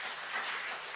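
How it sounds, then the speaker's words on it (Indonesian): A church congregation claps together in a steady, dense wash of applause that fills the whole moment, with no voices standing out. "Beri tepuk tangan dulu buat Tuhan Yesus."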